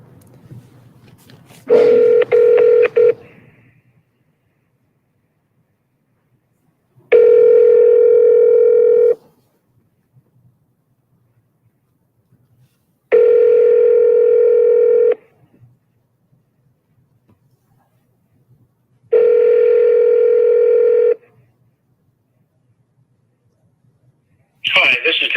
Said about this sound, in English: we're going to call Thomas.